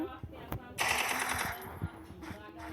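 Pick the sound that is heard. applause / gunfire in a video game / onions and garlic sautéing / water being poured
gunfire in a video game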